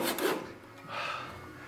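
A new hand saw cuts during a plasterboard ceiling renovation, two rasping strokes, close and moderately loud, with no speech.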